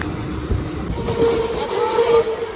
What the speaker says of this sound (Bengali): এদিক থেকে ট্রেনগুলো ছাড়ছে